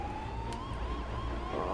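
Police car siren in the video game GTA V, a steady rising wail carrying over a low engine rumble, moderately loud with no speech.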